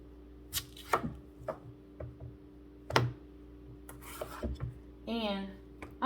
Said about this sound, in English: I'm gonna go ahead and start chopping my potatoes